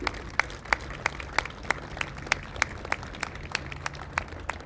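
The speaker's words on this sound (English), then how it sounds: "Give them a round of applause, please." Applause for police and first responders at a 9/11 memorial dedication, sparse and fairly distant, with a few distinct claps standing out over a faint crowd murmur.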